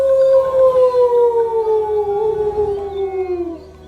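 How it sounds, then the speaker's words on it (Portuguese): In a cartoon version of a Brazilian folk legend, a big, furry werewolf with huge claws and fangs howls at the moon: one long, loud, sliding wail that falls slowly in pitch and fades at the end. "o lobo grande, peludo, com garras e presas imensas, pela primeira vez, uivou para a lua"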